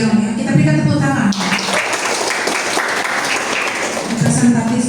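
Applause from a crowd fills the middle of the clip, a dense wash of clapping, with a voice speaking before it and again as it tapers.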